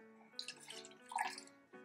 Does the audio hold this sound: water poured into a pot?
yes